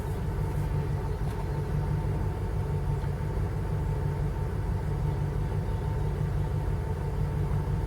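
A 1995 Jeep Grand Cherokee ZJ with a 5.2 engine and high mileage idles low with a steady, even rumble throughout, heard close with no voices.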